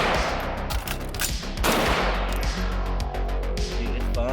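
A PWS MK116 MOD2 AR-15 rifle in 7.62x39 fires a rapid string of loud, close shots in quick succession, the cracks running together almost without a break.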